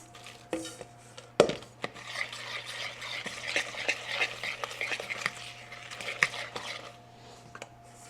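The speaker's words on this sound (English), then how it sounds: "So now we are going to slowly add our dry ingredients. And then we're gonna mix." Dry ingredients are mixed into cookie batter in a bowl, giving soft scraping and thick stirring with scattered clinks and knocks against the bowl, a sharp clack near the start, fairly close.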